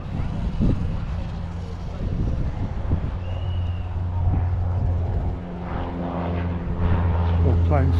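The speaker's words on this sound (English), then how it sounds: "More planes flying over." Low, droning propeller planes pass overhead at a retro car show amid wind and outdoor noise, with people talking intermittently.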